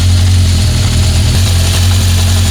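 A cold-started 1976 Honda CB750F1 four-cylinder motorcycle engine idles on a raised idle screw while its carburettors are balanced, a loud, close, steady low rumble with an even pulsing beat and no voices.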